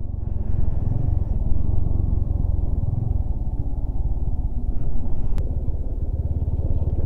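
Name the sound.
motorcycle riding off-road on a rocky mountain road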